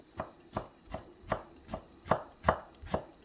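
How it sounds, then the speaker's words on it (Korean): A knife slices kimchi thinly on a cutting board in about eight steady, evenly spaced chops, close and crisp with no talking. "아주 얇게 썰어주세요"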